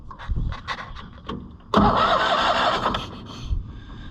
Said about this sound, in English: Let's see if we can make this crank again.